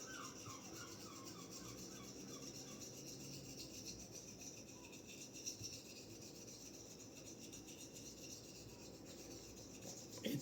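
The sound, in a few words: straight razor honing on a coticule stone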